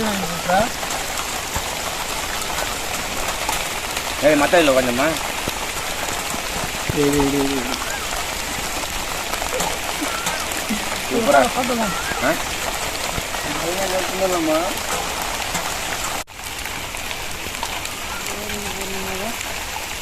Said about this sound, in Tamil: மழை வந்துச்சு